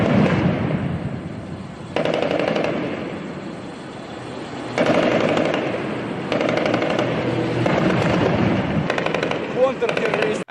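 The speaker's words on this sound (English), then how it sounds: "You can see the BRDM firing." Bursts of heavy automatic fire from a BRDM armored vehicle during a street firefight, rapid rattling volleys in several spaced bursts, with voices talking over the gunfire.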